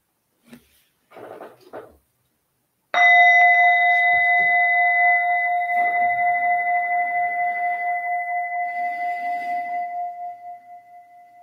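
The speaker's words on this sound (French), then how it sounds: "un petit son de bol, de cloche résonnera et marquera la fin de cette pratique" A small singing bowl is struck once to close a meditation session, ringing out clear and loud with two sustained tones that decay slowly with a gentle pulsing wobble, after a few faint soft sounds beforehand.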